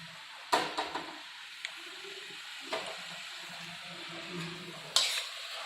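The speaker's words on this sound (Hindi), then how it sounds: "इसे हम चलाएंगे और करछुल की सहायता से मैश करेंगे।" Amaranth greens (chaurai saag) are stirred and mashed with a ladle in a pan, with occasional sharp clanks of the ladle against metal over a faint, low sizzle.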